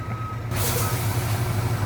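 Truck reversing to deliver an Audi, with steady repeated reversing beeps over a low diesel engine rumble, close by and loud, with no talking.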